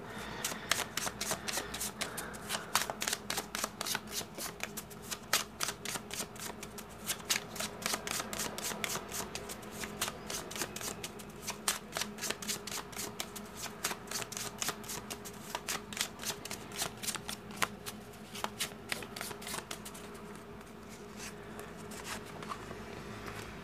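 A Cigano (Lenormand) card deck is shuffled by hand, producing a steady run of crisp, rapid riffling clicks that is close and continuous for over twenty seconds with no talking.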